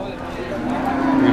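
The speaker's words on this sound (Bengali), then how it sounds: "এদিকে সবই যে অস্ট্রেলিয়ান গরু দেখেন" Australian cattle at the Kaitla livestock market in Mirzapur, Tangail, give a short rising moo over busy market murmur.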